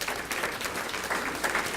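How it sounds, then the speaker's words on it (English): Audience at a City Club of Chicago talk gives a round of applause, a dense continuous wash of many hands clapping, moderately loud and close, with no speech over it. "Give her a round of applause."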